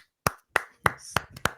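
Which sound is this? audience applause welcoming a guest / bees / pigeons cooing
audience applause welcoming a guest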